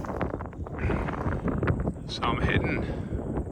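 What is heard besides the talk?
wind blowing across an open mountain saddle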